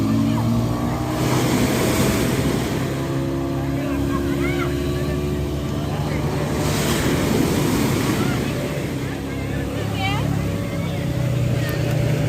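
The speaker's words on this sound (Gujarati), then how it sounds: "કેવો મસ્ત મજાનો દરિયો છે" Sea waves wash onto the shore at Dwarka in a continuous loud surge with wind buffeting the microphone, while people talk over the roar nearby.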